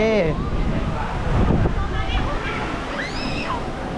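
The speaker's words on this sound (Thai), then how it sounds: "อันนี้มันทะเล" Water sloshes and churns in the sea-zone wave pool of a water park, close and fairly loud, while a child and an adult talk over it.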